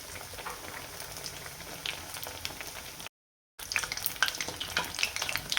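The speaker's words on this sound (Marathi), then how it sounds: "आता आपले हे वडे आहेत ना हाय फ्लेमवरतीच तळून घ्यायचे." Sabudana vada deep-frying in hot oil over a high flame, a steady crackling sizzle with dense bubbling pops, close and fairly loud, briefly cut out midway before resuming.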